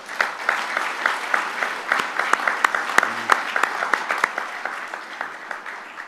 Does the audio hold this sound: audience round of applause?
yes